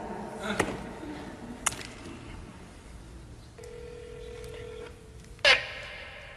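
Telephone keypad tones sound while calling a voicemail line: a few sharp short beeps and a sustained electronic tone, moderately loud, over a quiet room background.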